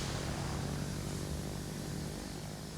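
Propeller-driven torpedo bombers launching from a warship in World of Warships, a steady, loud aircraft engine drone with broadband roar that holds throughout the clip with no talking.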